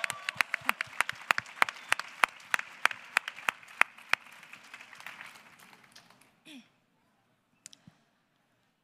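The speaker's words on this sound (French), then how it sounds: "Est-ce qu'on peut l'applaudir bien fort pour l'encourager?" Audience applause for a slam poetry performer at a ChangeNOW 2023 panel event, a burst of loud hand clapping that tapers off over about six seconds and leaves near silence with a few faint clicks.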